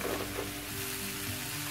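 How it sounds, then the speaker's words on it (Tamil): Vada curry (Saidapet style) bubbles and sizzles steadily in a pan, a soft continuous crackle with a faint hum underneath. "நல்லா கொதிச்சிடுச்சுங்க"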